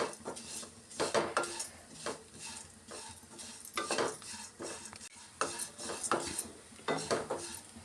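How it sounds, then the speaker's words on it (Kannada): Flattened rice (poha) roasting in ghee in a pan, a spatula scraping and stirring in repeated bursts of metallic clatter and scraping, close and fairly loud, with a faint sizzle underneath. "ಅವಲಕ್ಕಿನ ಹಸಿ ಸ್ಮೆಲ್ ಹೋಗೋ ತನಕ ಹುರ್ಕೊಬೇಕು"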